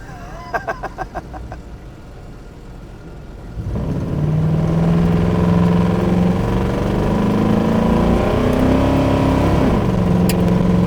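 A 1955 Chevy accelerating hard through the gears, the engine's loud steady roar climbing in pitch, dropping at a shift, then climbing again, after a brief stretch of softer idle.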